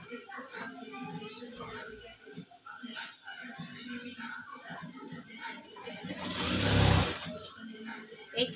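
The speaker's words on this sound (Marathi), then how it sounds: "आणि याच्यावरून दाब शिलाई मारायची" A sewing machine runs a pressed seam along the lining of a size 36 princess-cut blouse, its motor whirring steadily in a swell that builds and peaks near the end, with voices and workshop noise around it.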